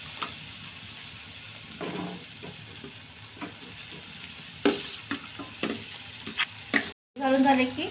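Okra frying in a pan with onion and turmeric, a steady close sizzle broken by scraping stirs of the spatula, with louder bursts of hissing toward the end.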